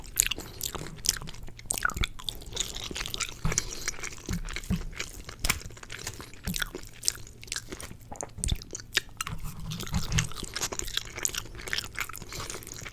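Close-up chewing and crunching of BBQ foods, a continuous run of crisp bites and wet mastication sounds with sharp crackles throughout, no talking.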